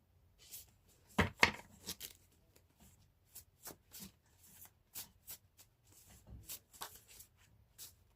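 A deck of tarot-style cards is shuffled by hand, quietly and close up, in a series of short riffling bursts and soft slaps with brief pauses between them.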